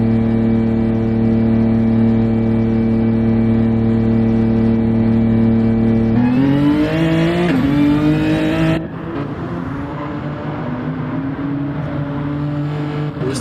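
A CTC race car engine from team RTR during a qualifying session, a steady loud idle that rises into revving and accelerating as the car pulls out onto the track, then settles into a rougher running drone.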